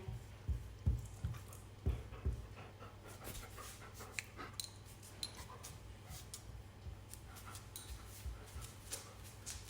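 A dog pants steadily at close range, quick rhythmic breaths over a low constant hum, with a few louder thumps near the start.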